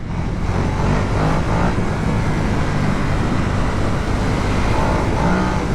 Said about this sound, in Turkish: Motorun sesi Klasik bildiğiniz Ducati sesi.